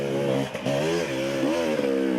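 Enduro motorcycles at the Lowveld Enduro race ride out of the trees on white bikes, one engine droning steadily and revving up and down, loud and close throughout with no talk.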